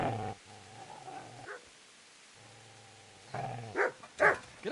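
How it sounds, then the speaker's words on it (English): A dog in the medieval video game Kingdom Come Deliverance growls low and steadily, pauses, growls again, then lets out two sharp, loud barks at close range. "Get away, you mutt!"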